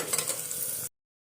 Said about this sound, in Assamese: আদা নহৰু পিঁয়াজ ভাজি থাকোঁতেই